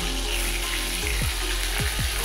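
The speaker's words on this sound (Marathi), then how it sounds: "इकडं आता त्याच तेलामध्ये मी पनीर तळून घेणार आहे।" Paneer cubes fry in hot oil in a home kitchen, giving a close, steady sizzle with a few soft bubbling pops and low thumps near the end, and no talking.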